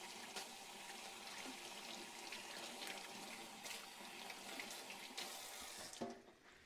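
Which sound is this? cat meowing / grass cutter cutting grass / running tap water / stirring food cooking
running tap water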